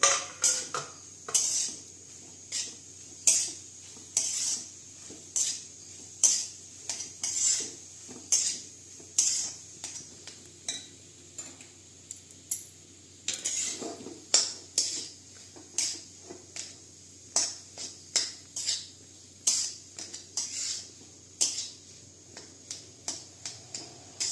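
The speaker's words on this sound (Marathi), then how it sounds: "रताळे शिजलेले किसून घेतलेत थोडेसे तुपावर परतून घेऊया" Grated cooked sweet potato stirred in ghee in a pan, with a spoon scraping and knocking against the metal in a steady rhythm of sharp clinks, close and fairly quiet, no voices.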